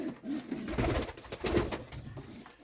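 Soft, low cooing of pigeons close by at a pigeon farm, a couple of rounded warbling calls rising and falling over quiet background.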